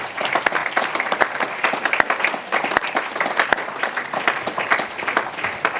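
A church congregation applauds the Lord during a Sunday worship service, producing dense, sustained clapping across the whole stretch with scattered sharper individual claps standing out.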